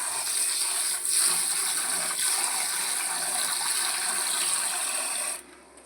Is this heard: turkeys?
no